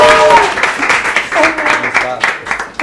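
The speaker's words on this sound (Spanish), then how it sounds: "Un aplauso para ella, por favor." A studio audience claps and cheers for guest Michelle Soifer on a television show, a steady wash of applause running under a host's excited voice throughout.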